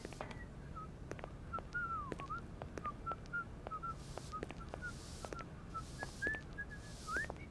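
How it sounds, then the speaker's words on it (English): Repeated short whistled notes in the video game Syberia, some sliding up or down, trilling across a steady low background hum with occasional soft clicks. "I heard somebody whistling."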